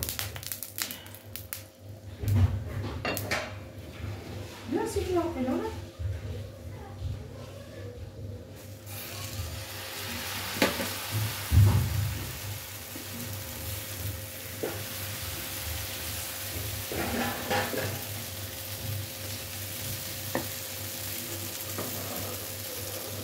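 Msemen dough frying in a little oil in a hot pan, a soft continuous sizzle with occasional handling knocks and clatters near the start, no talking.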